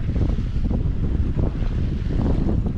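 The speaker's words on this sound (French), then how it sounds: "Là il y a du vent, il devrait y en avoir jusqu'à ce soir" Strong wind roars across the microphone aboard a sailboat sailing among the Bijagós islands, a loud, continuous low buffeting rush with water noise beneath and no speech.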